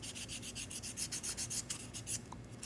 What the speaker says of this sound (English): I just like to use a salon board and smooth this out here